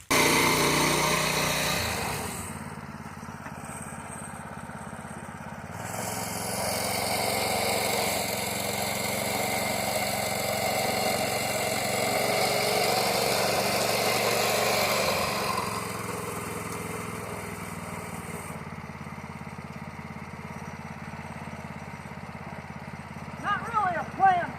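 A Harbor Freight Predator 212 6.5 hp small engine fitted in a pickup, running with a steady, moderately loud hum that swells and settles, briefly revving near the end, with voices present.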